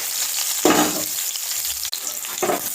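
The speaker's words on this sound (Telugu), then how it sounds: "ఉల్లిపాయ వేగేటట్టు కొంచెం వేయించుకోవాలి." Chopped onion and green chilli sizzle in hot oil in a pan, a steady crackling fry with a few louder bursts as the pieces are stirred.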